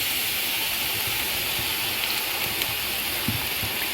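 Heavy cream (33% fat) poured into a pan of onions and porcini mushrooms frying together, giving a steady, even hiss and sizzle that holds at one level throughout without pause.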